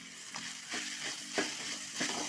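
Onions sauté in a pan with ginger-garlic paste and tomato for a crab roast masala: a moderate, continuous frying hiss broken by regular spatula scrapes about every half second.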